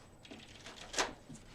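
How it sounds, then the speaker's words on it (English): Quiet, close shuffling of a deck of cards, a soft riffle swelling into one louder burst before trailing off. "I'm going to give it 1 more shuffle."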